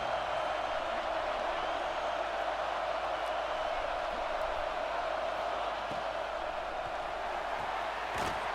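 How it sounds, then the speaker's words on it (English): Steady stadium crowd roar from the EA Sports College Football 26 video game, a dense continuous wash of cheering noise holding level throughout with a brief sharp burst near the end. "here comes the noise. This crowd is trying to inspire this defense to make a big red zone stop"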